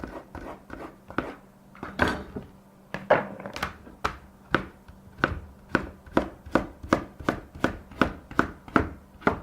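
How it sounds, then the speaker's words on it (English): A knife chops vegetables on a board in a run of sharp, close thuds, irregular at first and then a quick, even rhythm of about twenty strikes, with no talking. "Then I'm just going to chop them up."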